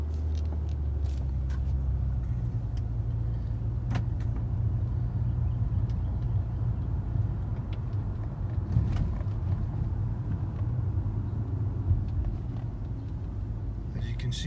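A 2012 Nissan Maxima out on the road gives a steady low engine and road rumble from inside the cabin, continuous for the whole stretch with a few faint knocks on top.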